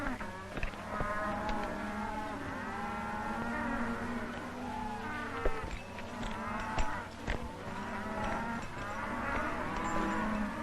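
Cattle in pens moo repeatedly, layered overlapping bellows from several animals over ten seconds, steady and fairly near, with faint rustling underneath.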